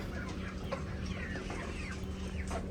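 Several chickens cluck softly and irregularly inside a mobile coop, the calls overlapping over a steady low hum, with no talk.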